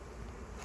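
Honey bees buzz at their hives in a botanical garden, a steady, close, continuous drone over a brief moment with no voices.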